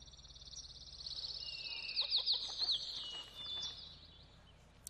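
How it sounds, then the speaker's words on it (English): Loud ambient birdsong in the tropical island game Tropico 3: a rapid series of high chirps and whistles, a cluster of sharp calls in the middle, then a trailing warble over faint background hum. "those birds are a little bit too loud"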